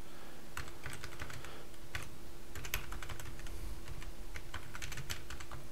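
Rapid clicking of keys on a computer keyboard as an email address is typed into a Dropbox sign-up form, a steady run of close, crisp taps with no talking.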